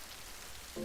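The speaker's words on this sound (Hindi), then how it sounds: "बाहर कितनी तेज बारिश हो रही है" Heavy rain falls steadily outside a makeshift home, a dense continuous hiss of drops on surfaces at even loudness.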